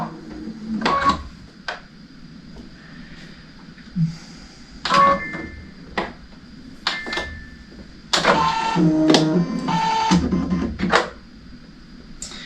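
A sewing machine stitches a star-spangled wall hanging in short mechanical bursts with pauses between them, ending in a longer, louder run.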